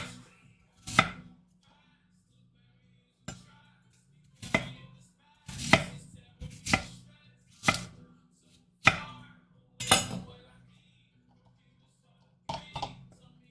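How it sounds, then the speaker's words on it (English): A knife rough-chops vegetables on a cutting board in about a dozen distinct, sharp thunks at an irregular pace, close and clear against a quiet background. "we're just going to rough chop"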